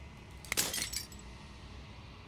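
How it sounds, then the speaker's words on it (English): Glass shattering in the video game Slay the Princess: a single bright, crashing break with a brief tinkling tail, faint over a low steady hum. "As the final fragment of glass shatters"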